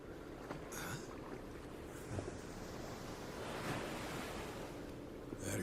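Steady ocean waves and surf wash around continuously in open sea, with gusts of wind buffeting the microphone and a few brief thumps from a small boat.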